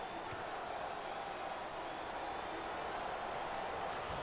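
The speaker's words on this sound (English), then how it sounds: "there's all kinds of people standing and cheering and going wacky." Arena crowd at a college basketball game between Kansas State and Oklahoma State cheering loudly after a foul is drawn, a steady dense roar of many voices sustained throughout.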